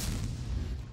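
A tank cannon firing in the World of Tanks video game, a single heavy booming shot with a rumbling low tail lasting about a second, loud and alone with no voices.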